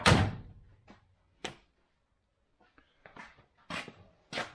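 A door on a 1971 Range Rover shuts with a loud close thunk, followed by scattered softer knocks and clunks of metal fittings at close range in a quiet workshop.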